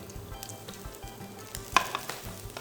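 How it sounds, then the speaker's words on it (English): Chopped garlic frying in hot oil alongside canned black beans, a continuous close crackling sizzle with small pops and a sharper spatter burst partway through. "When the oil is hot, put in your chopped garlic."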